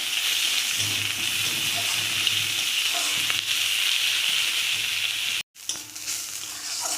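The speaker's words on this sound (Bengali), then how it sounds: "ওই কড়াতে আরেকটু আমি তেল দিয়েছি, দিয়ে এবার পেঁয়াজটা ভেজে নেব।" Chopped onions fry in oil in a kadai with a steady, dense sizzle, close and even, briefly cut off near the end before resuming.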